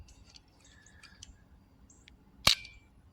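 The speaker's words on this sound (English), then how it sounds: "it is by far the most powerful unmodified pellet gun I have ever fired" A single sharp crack of an unmodified, high-powered pellet gun pistol fired outdoors, loud and close, standing alone over faint background noise and birdsong.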